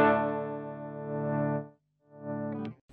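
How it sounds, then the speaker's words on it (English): An electric guitar through an amp's clean channel rings out a sustained chord, stops briefly, then strums again, sounding close and alone with no voices. "Clean channel sounds very decent."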